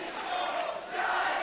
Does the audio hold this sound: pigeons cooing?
no